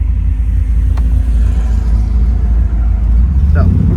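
A 1969 Chevrolet Camaro RS Z/28 with its numbers-matching 302 V8 cruises along, a steady low engine rumble and road noise holding loud and even throughout, with no sharp revving.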